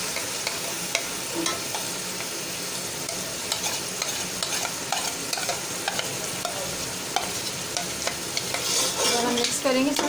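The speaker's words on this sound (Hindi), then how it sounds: "हम मिक्स करेंगे सब मसालों को अच्छी तरीके से भुनेगा" Spices fry for beef nalli biryani while being stirred steadily, with a constant sizzle under frequent sharp scrapes and clicks of a spoon against the pot, close by.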